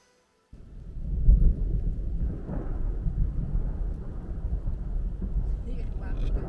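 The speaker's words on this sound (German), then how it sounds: "Blitzt und Thunder," Thunder rolls in during a rainstorm on Highway 14 near Grand Lake, a deep rumble that starts suddenly and keeps going as a long, loud roar mixed with rain noise.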